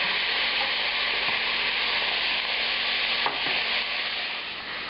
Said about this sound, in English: The second batch is cooking away in the pan.